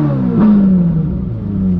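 A new Ferrari idles at a standstill with a deep, burbling engine note. One sharp throttle blip rises and then settles back into a steady, loud idle close by.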